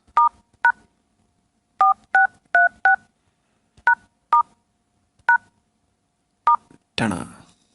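A phone keypad beeps as a code is typed, with about a dozen short, clean tones in irregular groups, ending in a brief burst of rustling.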